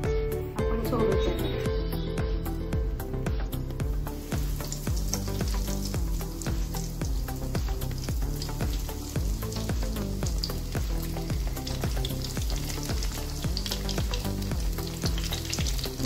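Veg paneer cutlets frying in oil in a pan, a continuous loud crackling sizzle throughout, with occasional scraping and stirring noises over a low steady hum.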